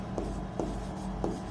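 A pen writes on paper, close and steady, with three light tapping strokes over a constant scratching.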